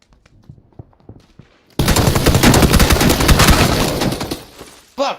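Sustained automatic gunfire from a video game erupts after a quiet stretch, a loud dense burst of rapid shots lasting several seconds before cutting off, with a brief separate sound at the very end.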